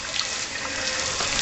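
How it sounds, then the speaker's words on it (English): Water from a soil health rainfall simulator splashes continuously onto conventionally tilled soil samples, a dense, steady hiss of spray and spattering drops close by with no voices. "Jay, does it look like the conventional till is actually splashing into the next can?"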